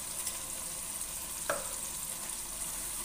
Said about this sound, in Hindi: तीन चार मिनट हो गए हैं इसको भूनते हुए और मज़ीद 3-4 मिनट जो है मैं इसको अच्छी तरह भून लूंगी